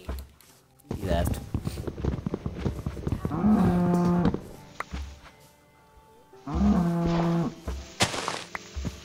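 Two long, loud moos from a video-game cow, spaced a few seconds apart over clattering game noise and thuds, with a person talking in between.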